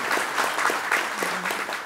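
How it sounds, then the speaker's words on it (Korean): Congratulatory clapping from an audience at a scholarship award ceremony, a short, fairly soft burst of many hands with a few louder individual claps standing out. "여러분 다시 한번 큰 축하의 박수를 부탁드리겠습니다"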